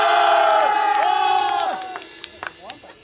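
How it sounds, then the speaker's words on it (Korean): An outdoor festival crowd at a Korean pumba performance in Daegu shouts and cheers loudly, with some whoops and clapping, then fades into scattered claps and voices by the end. "진짜로 이쪽 함성 한번 줘보세요."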